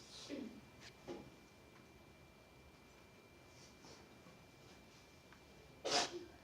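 A single sharp sneeze close by near the end, following a couple of fainter breathy sniffs or snorts over a quiet room.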